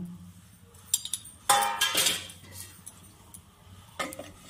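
Metal pot lid set onto a cooking pot of pumpkin shoots and potatoes with fish, a few sharp clinks and rattles, one louder clatter in the middle and a final clink, close up with no talk.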